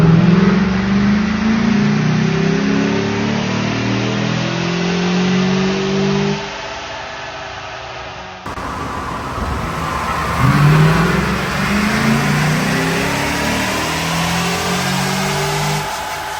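A 2016 Chevrolet Silverado 2500 pickup with 470,000 km on it revs hard on a dyno, its engine note droning steadily, dipping briefly midway, then climbing loud again through a long pull with no talk.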